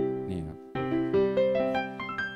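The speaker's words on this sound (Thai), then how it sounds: "เสียงเปียโนนะครับผมนี่เสียงเปียโน" Casio LK-115 electronic keyboard on its piano voice playing a short phrase of several notes, clear and close, each tone ringing with a bright, steady sustain.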